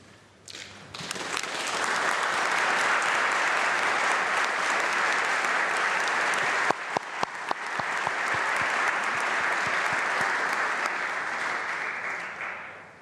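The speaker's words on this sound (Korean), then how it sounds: "노르웨이 국민이 이룬 위대한 성취에 큰 박수를 보냅니다" Applause from an audience after a presidential speech at the Oslo Forum in Norway, rising quickly after a quiet start into long, steady clapping with a few loud individual claps midway.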